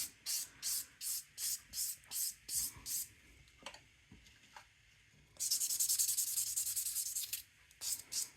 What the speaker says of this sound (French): Je vais passer mon buffer pour enlever mes graphings